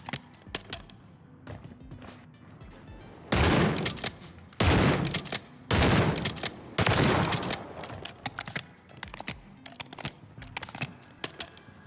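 Hip-fired gunshots in a first-person shooter video game, several loud bursts of rapid fire separated by short pauses, with scattered quieter clicks and handling noises between them.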